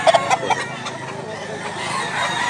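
Chickens and a rooster at a rooster sale in Mantalungon, Cebu, a few sharp squawks near the start, then a quieter stretch of soft clucking and background commotion close by.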